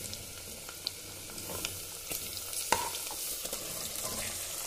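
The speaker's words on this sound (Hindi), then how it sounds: "ये यहाँ पर हमने मटन डाल दिया है और मटन को भी अच्छे से फ्राई कर लेंगे।" Mutton pieces fry in a pan with onions and green chillies that were browned first, a steady low sizzle broken by a few scraping stirs of a spoon, with no voices.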